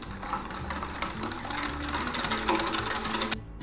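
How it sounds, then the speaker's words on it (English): Milk, sugar, vanilla, cornstarch and an egg yolk are whisked together in a bowl, giving a faint, steady rapid whirring and clinking that continues unbroken for a few seconds. "I'm just going to whisk all of this here well together."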